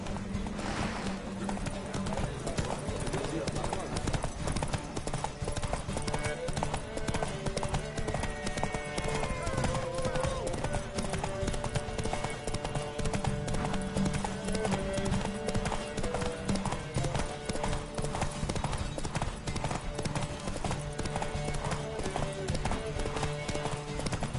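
Horse hooves clip-clopping steadily at a gallop during a race in The Witcher 3 on PS4, rapid rhythmic beats under game music and ambience, with a brief whinny.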